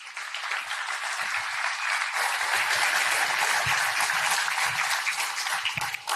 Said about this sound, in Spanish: la invitamos al podio y la recibimos también con un aplauso